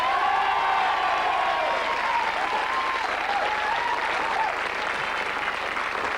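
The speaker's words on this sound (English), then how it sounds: "give another big round of applause to Sarah" Sustained applause from a television game-show studio audience, a dense even wash of clapping with faint cheering that holds steady for about six seconds.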